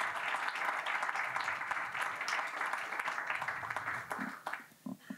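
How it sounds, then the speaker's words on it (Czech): Audience applause for Tomáš's team at a student presentation event, a dense sustained clapping that holds steady and then thins out into a few scattered claps near the end. "Poprosím o potlesk pro Tomáše tým."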